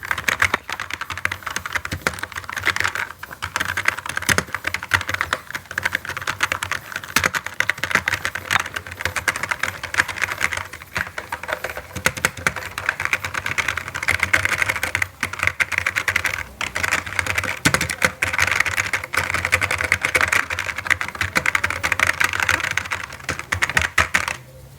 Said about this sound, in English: this is a sample audio of the clickiness of this keyboard